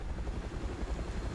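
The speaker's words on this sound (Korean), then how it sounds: "자, 헬기가 왔군요." Helicopter in a video game, its low rotor chop thrumming continuously and fairly loud for a brief moment, with no other sounds over it.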